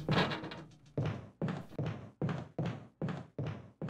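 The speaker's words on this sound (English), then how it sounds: "you can hear some zombies banging on the windows there" Zombies banging on windows in Resident Evil Remastered, a series of heavy dull thuds in an irregular then steady rhythm, about nine loud knocks, each decaying quickly.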